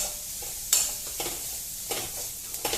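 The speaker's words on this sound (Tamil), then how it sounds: "நல்லா மிக்ஸ் பண்ணி வைக்கலாம்" A spatula stirs egg fried rice in a hot pan, giving a steady low sizzle broken by light scraping knocks, quiet and close, with no talking.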